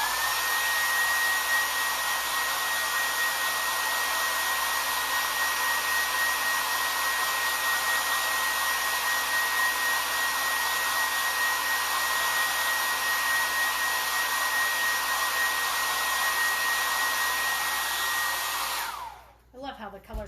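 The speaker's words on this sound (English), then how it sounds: "I'm going to go ahead and blow dry this" A hair dryer blasts continuously over a painted craft camper model, a loud, close, steady whirring roar with a high whine on top, cutting off near the end.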